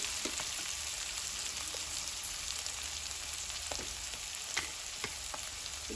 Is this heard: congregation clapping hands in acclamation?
no